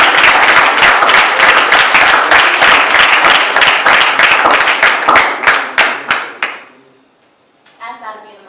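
Lively audience clapping for a poet at a university reading, dense and close at first, then thinning to scattered claps and fading out, after which a voice begins speaking.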